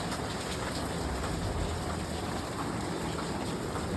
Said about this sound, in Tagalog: Pero maulan.